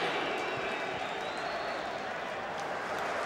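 A stadium crowd at a Leeds v Newcastle Premier League football match roars and cheers continuously, a dense sustained wall of noise with a commentator's voice over it.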